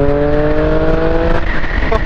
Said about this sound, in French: Allez, j'accélère un peu.